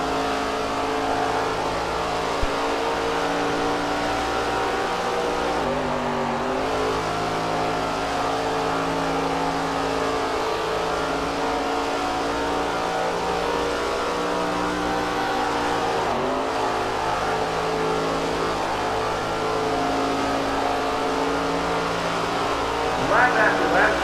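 Race car engines drone and rev steadily throughout a stretch of racing in the SRX video game, the sustained harmonic whine shifting pitch now and then, with a voice talking over it.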